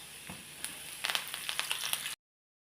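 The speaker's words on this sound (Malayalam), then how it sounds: "പിന്നെ ഇതിലേക്ക് നമ്മൾ കറിവേപ്പില." Curry leaves frying in hot oil alongside dried red chillies for curd rice, a faint close sizzle that swells into a cluster of quick crackling pops midway before cutting off abruptly.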